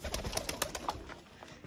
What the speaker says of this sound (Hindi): ये देखो कितना माशाल्लाह बड़ा कबूतर है